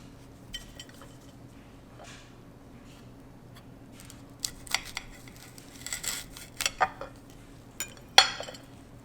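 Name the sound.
knife cutting open a chocolate pepper pod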